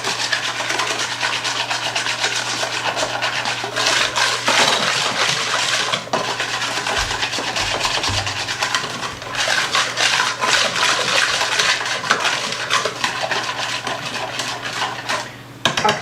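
A whisk scrapes and rattles steadily against a bowl while muffin batter is mixed, a continuous close-up scraping that runs the whole time without pause and with no talk over it.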